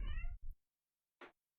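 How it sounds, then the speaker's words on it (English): Cats meowing in the Kentucky Route Zero game at the Marquez farmhouse: one loud, drawn-out meow up close, a short follow-up sound, then a brief breathy noise after a pause. "meowing cats sneaking in my room"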